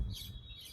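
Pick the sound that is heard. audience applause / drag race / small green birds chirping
small green birds chirping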